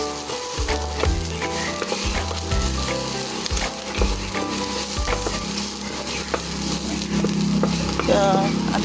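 Garlic sautéing with pork in hot oil in a home kitchen, a steady crackling sizzle broken by clattering knocks of stirring utensils against the pan.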